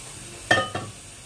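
A spoon stirs vermicelli into milk in a pot for kheer, giving two quick clinks and a scrape against the metal close by, then a soft simmering hiss.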